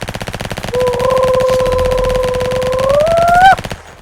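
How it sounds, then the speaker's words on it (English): A double minigun roars in the Flag Wars video game, a rapid, loud, continuous stream of gunfire with a whining spin-up tone rising over it before cutting off abruptly near the end. "Here's a double minigun."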